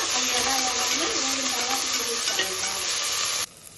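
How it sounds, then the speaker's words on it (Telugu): Cluster beans (gorichikkudu) and green chilies fry in a hot pan for a sour curry, with a steady loud sizzle and occasional stirring scrapes throughout, cutting off abruptly near the end. "చూడండి మొట్టికాయలు ఎలా వేగినాయో ఎర్రగా వేగిన తర్వాత"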